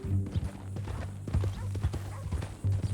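Horse hooves clip-clop at a steady walking pace in Red Dead Redemption 2, close and clear over a low rumbling hum, with talk faintly in the background.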